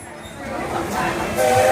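A small amusement park train at Disney rumbles steadily along its track, growing slightly louder, with a brief high squealing tone near the end.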